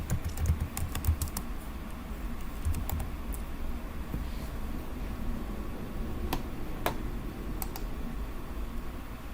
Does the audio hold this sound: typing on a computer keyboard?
yes